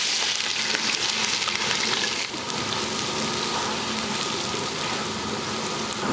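Half a kilo of large onions hitting hot oil in a pot for chicken biryani, a steady dense sizzle and crackle running loud and unbroken throughout with no voices.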